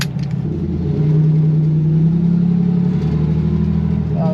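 A race car's engine at an autocross event on its parade lap, a loud, close, sustained low rumble that holds steady with slight swells in pitch rather than sharp revs.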